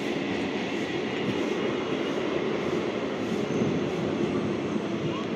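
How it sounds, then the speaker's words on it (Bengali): A Down Bardhaman–Howrah chord line local train passes through Hajigarh railway station, a loud, close, continuous rumble with wheel clatter that lasts the whole stretch, with no talking. "এটা হচ্ছে down Bardhaman Howrah cord line local."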